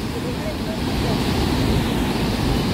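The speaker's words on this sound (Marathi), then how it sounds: "असा हा समुद्र खवळलेला आहे" Rough, churning sea surf at Kunkeshwar on the Konkan coast, a continuous loud wash of breaking waves with wind noise over the microphone, no distinct talk.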